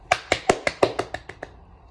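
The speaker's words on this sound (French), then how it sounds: "Faut l'applaudir" About nine sharp hand claps from a single person, close and crisp, slowing slightly and growing softer toward the end.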